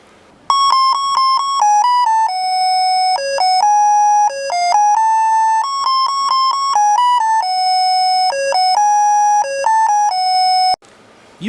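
A DIY doorbell built around a simple melody generator IC plays an electronic tune, a run of clean, bright beeping tones stepping through the melody in a steady rhythm, loud and close, then cutting off abruptly.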